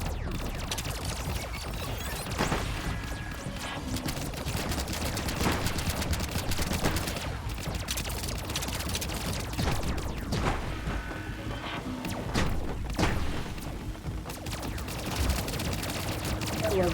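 Steady, dense gunfire from a video game shooter, with sharp shotgun-like blasts and crashes repeating throughout, loud and close, over a constant busy background of game noise.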